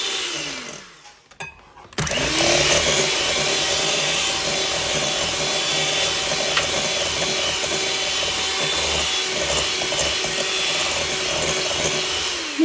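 An electric mixer whirs steadily and loudly as it beats sugar and butter for a fruit cake, starting abruptly after a brief quiet moment and running on continuously to the end.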